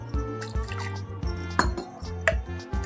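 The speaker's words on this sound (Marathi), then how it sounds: "ह्याच्यामध्ये थोडं पाणी घालू." Water is poured from a container onto freshly ground coconut sitting in a strainer, giving gurgling, dripping splashes in uneven spurts, close and clear with no talking.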